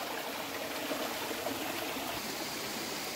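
Water from a karst spring spills over as a waterfall in a sinkhole, making an even, continuous rushing and splashing hiss at moderate volume throughout, with no one talking.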